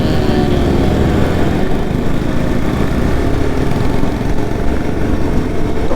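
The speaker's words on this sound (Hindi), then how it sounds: "ये एग्जॉस्ट चेंज किया हुआ है और बहुत ही लाउड एग्जॉस्ट है, काफ़ी बढ़िया साउंड आ रहा है इससे" Yamaha R15 motorcycle with a loud modified aftermarket exhaust, a steady close engine rumble held constant throughout with no pauses.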